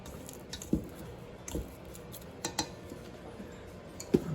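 A spatula scrapes the sides of a bowl of gluten-free pizza dough, giving a few soft, sporadic scrapes and taps, quiet and close, with no talking.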